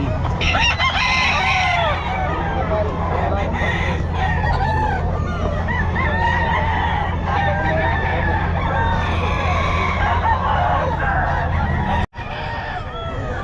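Gold pumpkin Hulsey rooster, a bullstag at a busy pet market, crowing repeatedly amid other roosters and clucking fowl, with a dense, loud din of birds and a low steady hum throughout.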